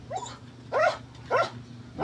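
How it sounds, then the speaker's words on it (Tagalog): A dog barks three times at a farmyard home where ducks are also kept. The first bark is softer and the next two are louder, sharp and evenly spaced, heard alone against a low steady hum. "ang ingay-ingay itong asong ito"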